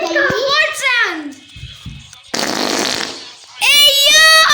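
A child fart in a playful pool setting, a loud sputtering burst between bursts of excited children's voices and chatter.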